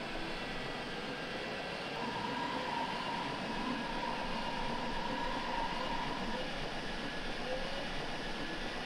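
U8 subway train on the Berlin line from Hermannstraße to Wittenau in Microsoft Train Simulator, running with a steady, continuous rumble and a sustained tonal whine throughout, fairly loud and without speech.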